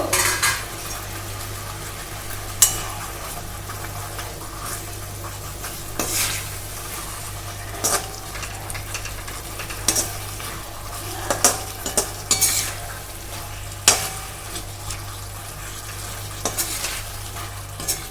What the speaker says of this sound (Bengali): এই চিকেনের এই তেলটার মধ্যে কিন্তু আমরা এই পেঁয়াজটাকে সুন্দর করে ভেজে নেব।